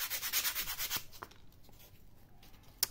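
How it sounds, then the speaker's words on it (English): Sandpaper rubbing a small model coping stone for a 1/35 scale gated wall diorama, a quick series of close rhythmic scrubbing strokes that stop after about a second, followed by faint handling sounds. "just round it off with a bit of sandpaper"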